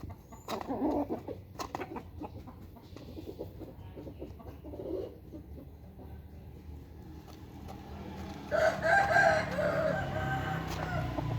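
A fighting rooster crows loudly nearby toward the end, a drawn-out call following quieter clucks and scattered background noise.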